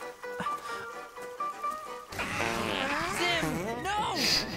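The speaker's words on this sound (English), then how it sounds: "it's a fart flower" A cartoon fart flower from the animated series The Dragon Prince lets out a wobbly, sputtering fart noise that follows a stretch of soft music and carries on loudly for a couple of seconds.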